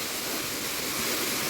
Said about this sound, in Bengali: অবশেষে আমরা পাথর ভাঙা ঝর্ণার সামনে।